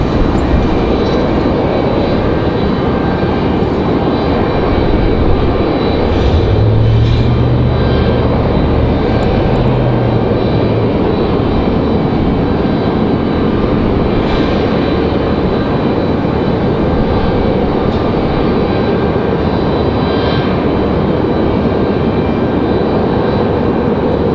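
An airliner landing at Raleigh Durham airport, with a long, loud engine roar that holds steady throughout and swells briefly in the low rumble partway through, near and alone without talk.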